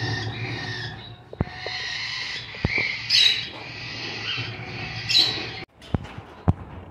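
A cockatiel breeder pair with chicks in an aviary gives a few short squawks and chirps, two louder calls standing out over a steady murmur of background noise.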